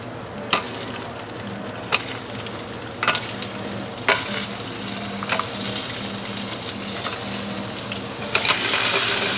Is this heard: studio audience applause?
no